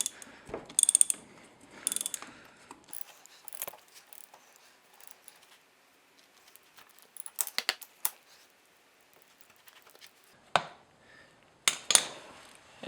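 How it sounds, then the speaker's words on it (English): A socket and ratchet tightening the oil drain bolt on a 2008 Kawasaki Ninja 250R, close clicking ratchet bursts with metallic handling noises and short quiet gaps between strokes. "And then go in with your socket and ratchet."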